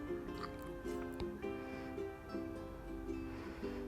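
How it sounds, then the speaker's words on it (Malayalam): Rice for fish biryani boils quietly in a covered pot, soft rhythmic bubbling and gentle plops repeating about twice a second under a low steady hum. "റൈസ് ഇവിടെ തിളച്ചുകൊണ്ടിരിക്കുന്നുണ്ട്."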